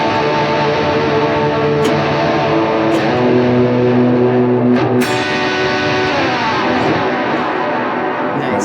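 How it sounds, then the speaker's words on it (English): An electric guitar runs through drive, delay and shimmering reverb pedals, playing sustained distorted chords that ring and swell into a continuous wash of echoing tone with a few picked accents. "like to give a little bit of an edge with a drive pedal or a distortion pedal, and then put a delay and a nice shimmering reverb over it"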